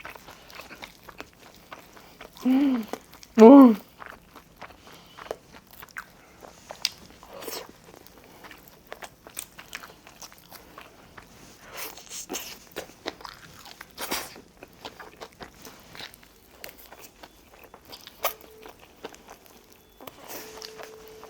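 Fried chicken with jerk sauce is being eaten up close, with two loud crunchy bites early on followed by quieter intermittent chewing and small mouth sounds, no talking.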